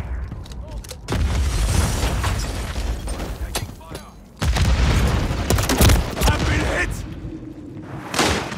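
Tear gas launcher firing in Call of Duty, a heavy booming thump followed by a second loud blast amid a dense rumbling battle soundscape, with voices calling out in the background.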